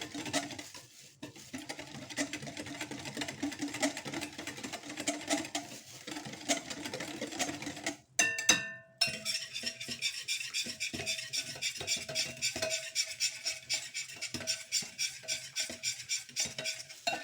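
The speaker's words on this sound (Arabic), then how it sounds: "وهقلب امزج المكونات بتاعتي كويس جدا بالشكل ده" Coffee biscuit dough with baking powder and sugar being mixed by hand in a bowl, a steady run of soft scraping and clinking stirring strokes, close and fairly quiet, with a brief louder clatter partway through.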